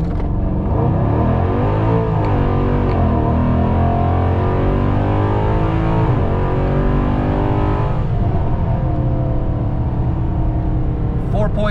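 A modified, cammed 5.7 Hemi R/T roars through a 0-60 acceleration run, loud engine rumble rising in pitch through the gears as the car pulls hard, with a voice over the engine.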